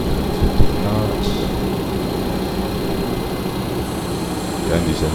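DC-9 jet engines roar in the FS9 flight simulator: a loud, steady, dense drone runs unbroken through the whole stretch, with only faint faster tones drifting above it.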